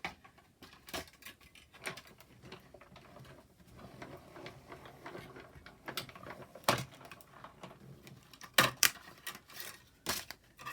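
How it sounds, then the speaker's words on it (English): A die cut machine cranks card through the bottom part of an ice skate boot die, making quiet irregular clicks and ratcheting taps spread across the clip, with no speech. "all you want is the bottom part of this going through your die cut machine"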